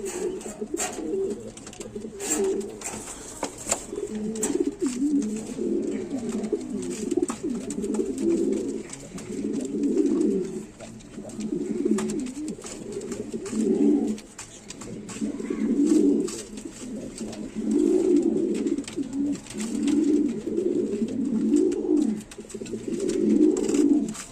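A pair of white King pigeons coo close by in repeated, throaty bursts that rise and fall for over twenty seconds, with faint clicks and shuffling behind them.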